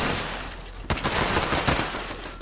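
Automated turrets at a Fallout 76 workshop firing in rapid, overlapping bursts, loud and close, with a sharp onset partway through followed by a sustained clatter of gunfire.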